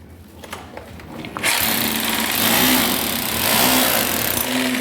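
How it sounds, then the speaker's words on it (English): Rotary hammer drill set to hammer mode chiselling into a wall on a Ghana building site starts abruptly after a quiet moment, then runs as a loud, continuous rattling hammer roar until the end. "So I want to chisel this wall, so I have to switch it to the hammer position."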